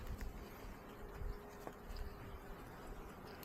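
Honey bees buzzing around an open hive during an inspection for queen cells, a dense continuous hum of many wings, close and fairly quiet, with no talking.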